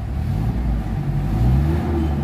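Engine of a Mitsubishi Adventure with a low-power, weak-pull fault revving steadily, a loud, continuous low mechanical drone that holds near the listener throughout without speech.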